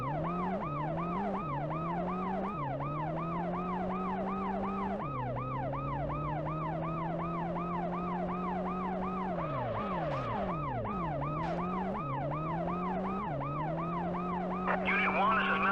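A wailing ambulance siren in the PlayStation game World's Scariest Police Chases rises and falls steadily, loud and close, with pitch dips and a brief burst of other noise near the end.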